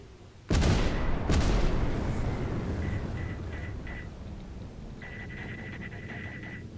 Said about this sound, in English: I'm just gonna lock and fire like a bunch of missiles on you.